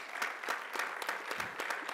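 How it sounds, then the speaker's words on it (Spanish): Audience applause at a panel on early childhood investment in Mexico: a steady wash of many hands clapping for about two seconds, fairly close and even in loudness. "Un aplauso."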